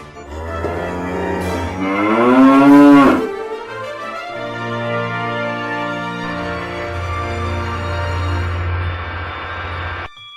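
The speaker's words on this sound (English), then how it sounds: "It sounds like a cow." A cow moos in a Thomas and Friends cartoon: one long, drawn-out, low bellowing moo that rises then settles, heard clearly and alone.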